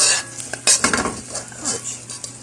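Food stirred in a pan during home cooking, with a few quick metal clinks and scrapes of a utensil against the pan over a light sizzle, close and brief.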